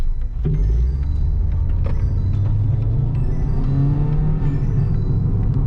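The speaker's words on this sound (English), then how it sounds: "I have an exhaust leak going on" A 2006 Hyundai Tiburon GS engine with an exhaust leak idles and revs with a rough, loud rumble and ticking, puffing noises from the exhaust, recorded close up.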